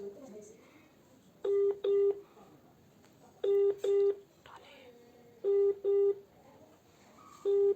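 Touch-tone dialing beeps come in pairs, repeating every two seconds or so, loud and clear over a faint background of murmuring voices.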